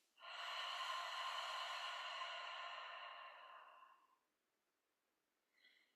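A voice imitates a steam iron's release: one long, steady breathy hiss for about four seconds, then a brief faint puff of air.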